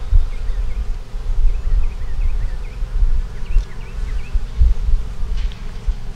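Honey bees hum steadily inside a hive holding capped queen cells, a dense continuous buzz close by with a few faint birdlike chirps drifting over it.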